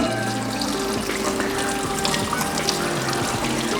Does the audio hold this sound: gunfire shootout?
no